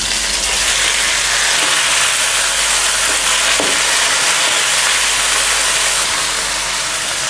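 Sliced tomatoes frying in a pan with onion, garlic and chili give off a loud, steady sizzle and hiss that runs unbroken throughout, with no talking.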